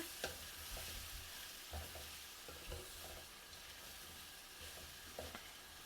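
Flat beans and potatoes fry in a pan with green chillies, a soft steady sizzle running throughout, broken by a few dull stirring scrapes and knocks from the utensil. No one speaks.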